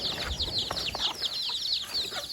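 A flock of chickens clucking close by in a farmyard, with quick repeated clucks and squawks overlapping in an uneven rhythm and no talking.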